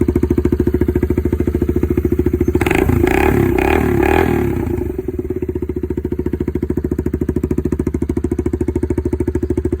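A Suzuki Marauder bobber with a custom-built exhaust idles with a loud, throbbing exhaust, then blips the throttle in a few sharp revs before settling back to a rumbling idle.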